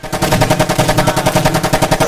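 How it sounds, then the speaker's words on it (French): Minigun firing in the Teardown video game, a continuous loud rapid-fire burst of evenly spaced shots lasting about two seconds, close and alone. "Minigun."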